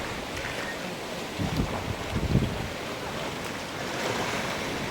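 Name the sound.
waves on Thottada beach, Kannur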